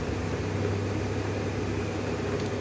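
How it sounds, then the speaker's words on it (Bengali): A gas stove burner lit under a wok gives a steady, even broadband roar, a constant hiss-like rush that holds at the same level from start to finish with no talk over it. "কড়ার গ্যাসটা জ্বালিয়ে দিলাম"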